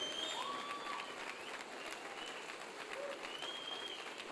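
A church congregation stands and applauds in a steady wash of clapping, with faint voices and a few whistles mixed in.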